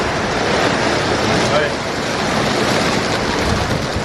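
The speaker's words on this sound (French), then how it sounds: "il y a le vent qui se lève" Strong, steady wind roaring and buffeting the microphone, a constant loud rush with a surf-like wash and no voices.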